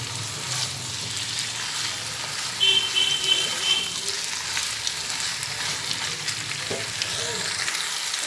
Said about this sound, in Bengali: এরপরে নাড়াচাড়া করতে করতে এর মধ্যে দুটো লঙ্কা দিয়ে দিলাম